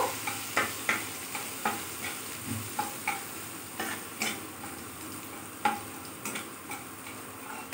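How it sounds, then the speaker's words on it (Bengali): Chopped ginger and garlic fry in oil over low heat, a soft steady sizzle broken by regular sharp taps and scrapes of a spatula stirring the pan, with no one talking. "ওই তেলের মধ্যেই আমি আদা রসুনের কুচিটা দিয়ে দিলাম।"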